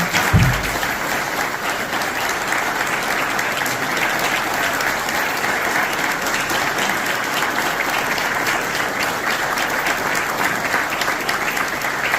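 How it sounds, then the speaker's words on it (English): Sustained applause from a crowd honoring World War II veterans on Pearl Harbor Day, steady and dense with no break across the whole stretch. "So let's give these guys another round of applause."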